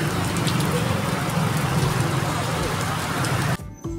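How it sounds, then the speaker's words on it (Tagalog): Heavy rain pours steadily in a dense, loud roar, drumming on surfaces throughout before cutting off abruptly near the end. "sobrang lakas ng ulan"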